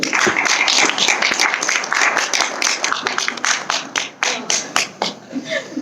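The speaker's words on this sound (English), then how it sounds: "Let's welcome Padma with a big round of applause." An audience claps loudly to welcome a speaker at an agile coaching talk, dense applause that thins into scattered individual claps toward the end, with faint voices underneath.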